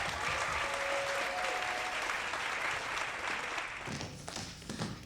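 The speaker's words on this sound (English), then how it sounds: "Please join me in giving them a warm round of applause." An audience applauds Capital Tap and District Tap at a sold-out percussion performance, a dense, steady wash of clapping that holds loud for about four seconds before thinning out, with a few voices and cheers mixed in near the end.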